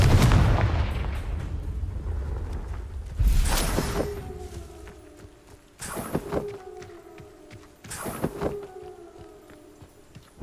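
Fiery blast spells are cast repeatedly in Hogwarts Legacy, with a heavy rumbling burst followed by three sharp cracking explosions spaced about two seconds apart, each trailing off into a ringing tail.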